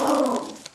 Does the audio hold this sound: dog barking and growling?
yes